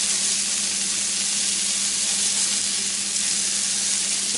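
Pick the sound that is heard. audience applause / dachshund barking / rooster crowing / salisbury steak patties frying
salisbury steak patties frying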